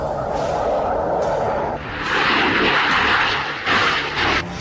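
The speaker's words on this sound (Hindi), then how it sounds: "लद्दाख के आसमान में सुखोई और MiG-29 जैसे विमानों की गड़गड़ाहट को भी महसूस किया" Sukhoi and MiG-29 fighter jets roar loudly across the sky over Ladakh, a rumbling engine wash that swells and surges in waves.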